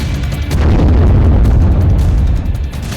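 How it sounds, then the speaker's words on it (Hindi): An explosion on the roof of the concrete radiation shield at the Chernobyl plant at night: a loud, sustained, deep rumbling boom that rolls on for several seconds without any speech. "यह धमाका 14 तारीख की रात करीब 2 बजे हुआ"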